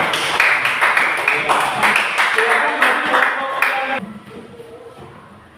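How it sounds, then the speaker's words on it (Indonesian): Classroom applause, a group of hands clapping steadily for several seconds before dying away, with a voice speaking briefly over it. "kita beri tepuk tangan atas"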